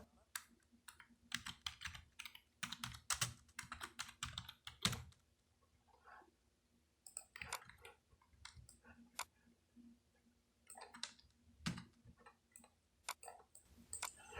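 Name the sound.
typing on a computer keyboard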